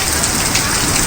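Heavy rain pours down in a dense, loud, unbroken hiss of drops hammering surfaces, with no voices.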